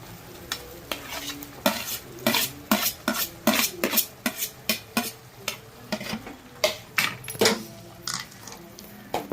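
Boiled potatoes tipped into a bubbling pot of poori kilangu masala and stirred, a steady run of loud spoon-and-pan scrapes and clatters over a soft simmering sizzle, no talking.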